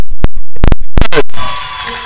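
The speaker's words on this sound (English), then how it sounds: "The slam dunk ignites the crowd." A basketball crowd erupts in cheers after a slam dunk at an Eagles home game against St. Andrews University. A burst of loud, choppy sounds comes first, then the cheering settles into a sustained wash of noise.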